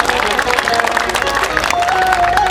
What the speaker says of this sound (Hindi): अगर अच्छा लगे तो ताली मारें।